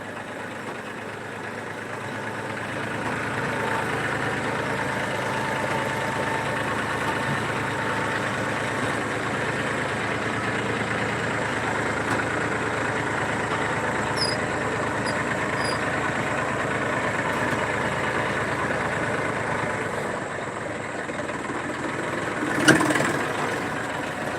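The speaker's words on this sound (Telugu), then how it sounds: "మేమైతే ట్రాక్టర్తో అయితే తోలుతున్నాము మా టమాటాలు" A steady tractor engine drone runs continuously at a constant level, a heavy motor chugging along close by, with a brief sharp knock near the end.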